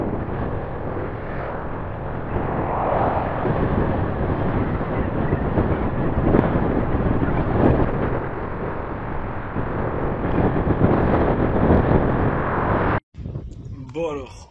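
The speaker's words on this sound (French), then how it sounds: "le vent est vraiment super fort" Strong wind buffeting a cyclist climbing the Coll de Rates, a loud, continuous roaring rush that persists for most of the stretch before dropping off abruptly near the end.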